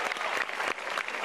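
Loud, dense applause from a stand-up comedy audience in Indonesia fills the room, steady and sustained with no talk on top.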